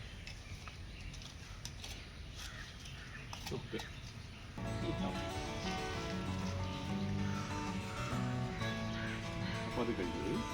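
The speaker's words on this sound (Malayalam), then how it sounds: "നനയ്ക്കേണ്ട ആവശ്യമില്ല, നല്ല മഴയാണ്" Steady rain falls on a garden where bone meal and cow-dung manure have just been worked in around a newly buried plant support, a dense patter that swells louder partway through and continues evenly beside occasional voices.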